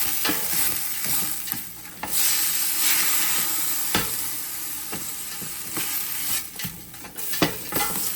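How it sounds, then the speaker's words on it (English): Chopped garlic and onions sizzle in a pan for collard greens while a spoon stirs them across the bottom. A steady, fairly loud frying hiss runs throughout, broken by several sharp scraping clicks, with no talking. "Make sure we give that a good stir in the bottom of that pan."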